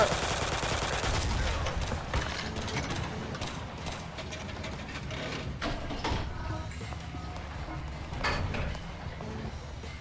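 Pistol gunfire from a video game battle on an island takeover, with dense overlapping shots and clattering impacts over a steady loud background of combat noise.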